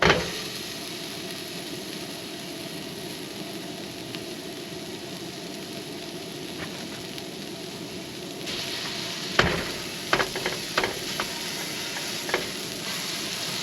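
Food sizzles steadily in a small frying pan at a lakeside campsite, a constant hiss with a few clattering stirs and knocks toward the end.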